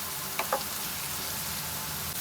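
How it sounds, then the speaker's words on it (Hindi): Cumin seeds frying with onions in hot oil for Sindhi-style bhindi, a soft continuous sizzle with a couple of brief stirring scrapes near the start. "प्याज के साथ फ्राई करते हैं ज़ीरे को भी"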